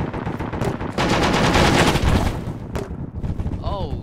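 Bursts of rapid automatic gunfire in Arma 3, loud and close, with a dense rattling stretch in the middle and a few isolated shots, followed by a faint whistling tone near the end.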